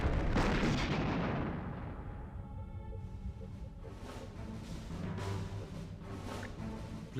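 Starship weapons fire at a target in the Star Trek Bridge Commander space combat game, opening with a loud booming blast that decays into a rumbling, crackling tail with fainter bursts following.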